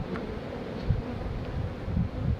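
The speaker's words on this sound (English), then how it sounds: "So let me smoke these bees down." Honey bees buzzing around an open, weak hive, a steady droning hum close to the microphone with occasional louder passes of individual bees.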